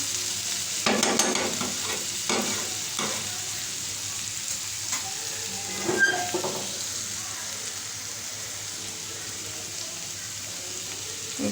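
Sliced bitter gourd fries in a pan with a continuous sizzle, and several scraping stirs of a spatula come close at first before the sound settles into a steady crackle.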